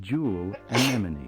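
A single short sneeze bursts out close up, preceded by a breathy intake, amid casual speech.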